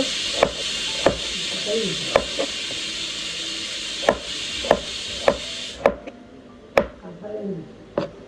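A knife chops food on a board in a home kitchen, a dozen or so sharp, close knocks at uneven intervals over a steady frying hiss, with voices talking in the background.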